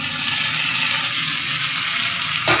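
Okra tipped into a hot pan of softened fried potatoes for a mushroom, potato and okra bhaji, giving a steady close broadband sizzle throughout that ends with a brief louder burst at the very end, with no talking.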